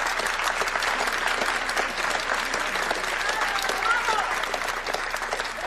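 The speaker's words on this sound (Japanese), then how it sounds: "ブラボーの大歓声。" A concert audience cheers and applauds after a piano performance, continuous dense clapping with shouts of bravo rising from the crowd, loud and sustained throughout.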